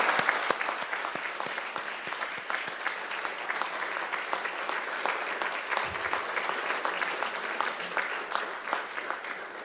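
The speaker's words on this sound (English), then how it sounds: "I invite you to give them a mighty round of applause in thanks and gratitude" Graduates at a Macquarie University graduation ceremony applaud their family and friends, a loud, sustained round of clapping with many distinct hand claps and no talk over it.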